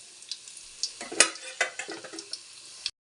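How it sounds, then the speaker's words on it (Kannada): Mustard and cumin seeds sputter in hot oil for a tempering, with a steady run of close, sharp crackles and pops and a few louder bursts, ending abruptly. "ನೋಡಿ ಹೆಂಗೆ ಪಟ ಪಟ ಅಂತ ಎಣ್ಣೆ ಸಿಡಿತವೆ"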